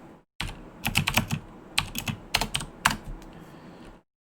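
Typing on a computer keyboard: a quiet, close run of irregular key clicks in short clusters, with brief pauses between bursts and no talking.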